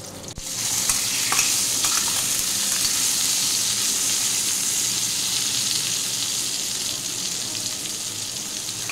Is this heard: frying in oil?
yes